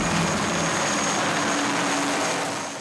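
A military helicopter approaches to evacuate wounded soldiers in Mali, its loud, dense rotor and engine roar filling the air continuously and easing slightly toward the end.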